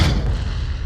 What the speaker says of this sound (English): The rocket launcher consists of 4 parts.